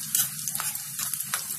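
Cumin seeds fry in hot oil for a tadka, a close crackling sizzle with small popping bursts and stirring scrapes over a short stretch.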